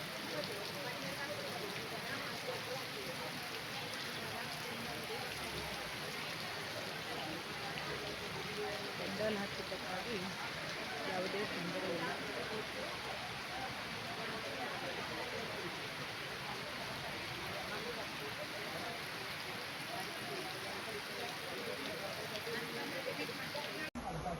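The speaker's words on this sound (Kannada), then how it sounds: "ಮಳೆಗಾಲದ ಮಳೆ" Soft, continuous monsoon rainfall patter, fairly distant and even in intensity, steady for the whole stretch.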